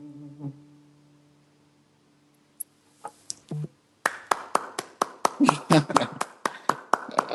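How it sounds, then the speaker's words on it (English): An audience claps after a song at a live podcast recording: a low hum and a few scattered taps give way to a burst of steady, close applause that continues to the end. "I hope you want them to hear you clapping"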